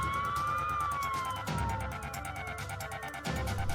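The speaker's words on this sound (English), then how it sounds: "I heard police sirens." A police siren wails steadily up and down, loud and close, over the rumble of passing traffic with a couple of heavier vehicle surges.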